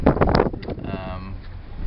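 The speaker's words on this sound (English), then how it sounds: "It's pretty windy out here," Gusty wind on the coast at Spencer's Island buffets the microphone in a short, rough rush of low rumbling noise.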